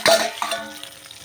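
Half-boiled eggplants stirred in a pan for steamed eggplant with mustard and poppy seed, giving a few short scraping, clattering stirs over a soft sizzle, close and fairly loud, with no talking.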